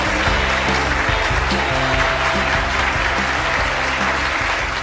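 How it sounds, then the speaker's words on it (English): Sustained audience applause greets a physics lecturer before a talk on basketball, a thick, steady roar of clapping hands from a large crowd, with a faint voice underneath. "Let's give him a round of applause."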